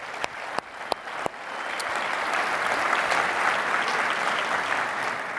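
A few sharp claps start off, then a conference audience breaks into sustained, steady applause that fills the room and holds to the end.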